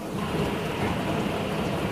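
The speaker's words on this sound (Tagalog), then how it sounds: "Lakas ng ulan, solid." Heavy rain pours steadily during a daytime power outage, a dense, even hiss of downpour that fills the whole stretch without pause and with no voices.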